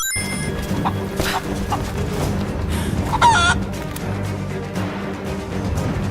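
Chickens in the video game Rise of the Tomb Raider cluck and fuss throughout, with a brief crow-like call near the middle, over a steady low background hum.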